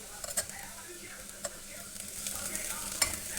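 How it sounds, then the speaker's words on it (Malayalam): Spice masala for Kerala-style beef curry being mixed in a pan, making a soft, faint sizzle with a few scattered scrapes and taps of the spoon. There is no talk. "നന്നായി മിക്സ് ചെയ്യുക."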